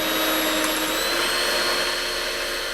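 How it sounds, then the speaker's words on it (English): An electric whisk whirs steadily at high speed, a loud, continuous motor drone close by. "Listen to the sound of the electric whisk."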